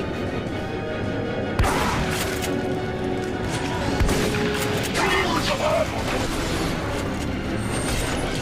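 Dense, loud gunfire and explosions fill a battle in the video game The Bureau: XCOM Declassified, with sharp impacts cutting through constant rumbling combat noise.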